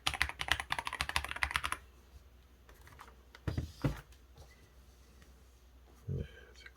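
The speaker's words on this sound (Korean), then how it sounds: "사무실에서 이렇게 치면은 시끄럽다는 소리를 듣는 것보다는 타자기를 치고 있는 거 아니냐" Rapid clacking keystrokes on a DAREU A104 Pro full-size retro beige keyboard fitted with snow switches, loud and close for the first couple of seconds, then a few scattered isolated key presses at lower level.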